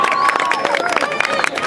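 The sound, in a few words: audience applause and cheering at a rap battle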